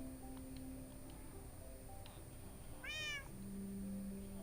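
Cats meowing in Minecraft: one clear, drawn-out meow stands out in the middle, with faint earlier mews over a quiet, steady game background hum.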